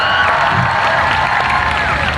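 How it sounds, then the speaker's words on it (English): A Labour Day rally audience applauds and cheers in a steady, dense wash of clapping and crowd noise, with whoops rising now and then. "Round of applause for all of you for coming out here."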